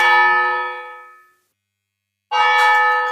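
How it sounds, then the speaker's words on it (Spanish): Church bells ring in a bell tower: one strike hangs with a long, bright humming decay that fades to silence, then a second strike rings out loud and full near the end. "Las hermosas campanas de mi campanario están tocando"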